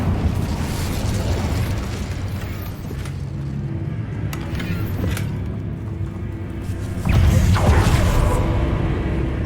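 An Incendio fire spell blasting in a Harry Potter video game, a dense roaring rumble with crackling bursts that swells into a louder blast near the end, heavy and close.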